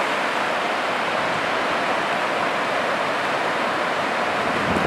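Sea waves wash steadily onto Playa de Las Arenas beach in Valencia, a loud, close, unbroken wash of surf with no voices.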